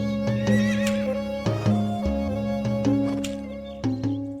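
A horse neighs in a long, loud whinny with several sharp bursts, set against music.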